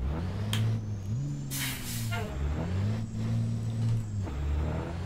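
Bus engine in American Truck Simulator, close and steady, with its low drone stepping up in pitch as it accelerates, plus short hissing bursts that sound like air brakes or skidding.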